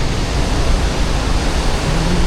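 Mallalli waterfall in Coorg during the monsoon, heard close up: a dense, loud, unbroken roar of splashing and crashing water filling the whole clip with no voices.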